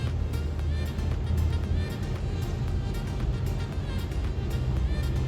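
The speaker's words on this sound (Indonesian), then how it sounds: "sehari-hari jalanan ini super macet" Congested street traffic on Jalan Gunung Agung in Denpasar, Bali, past schools, shops and a market, heard as a steady near rumble of engines with a few horn-like tones above it and no talk.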